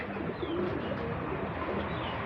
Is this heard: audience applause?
no